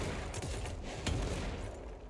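Gunshots in the video game Control crackle in a rapid dense volley of sharp reports over a constant rumbling din, with one heavier crack standing out midway.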